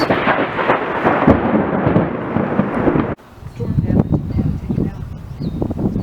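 Thunder from a nearby monsoon storm rolls as a long, loud, deep rumble, then breaks off and gives way to softer outdoor sound with a voice speaking.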